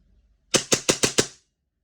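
Five rapid, evenly spaced sharp cracks from a WE T-Rex Hi-Capa airsoft pistol, close and loud, fired in a quick string with nothing else around them.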